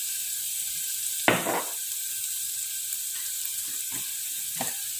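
Turmeric and spices sizzle and fry in a pan for a Malay-style spiced nipah banana dish, with a louder burst of sizzling as they are stirred, followed by softer scraping stirs, close and steady.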